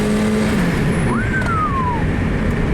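A turbocharged Mazda Miata accelerates hard with a loud, steady engine roar, and a rising then falling squeal comes through as the tires break loose.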